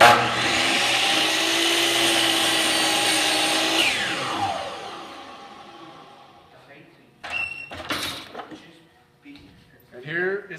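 A power saw cuts wood for the frame of a tile-top table, a loud steady whine for about four seconds that winds down, followed by quieter thuds and handling noises of the cut pieces.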